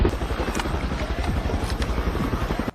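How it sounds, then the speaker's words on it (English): Helicopter from a movie scene, a steady rapid rotor chop with dense low thumping throughout, fairly loud and alone for a few seconds. "Helicopter."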